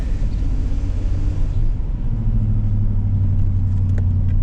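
Buick Electra engine idling high with a sticking throttle, a loud, steady low rumble from inside the car that shifts to a firmer, sustained drone partway through, with no talking.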